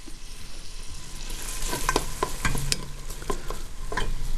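Close sizzling and crackling of onions frying in hot melted fat, with scraping stir sounds over a continuous hiss.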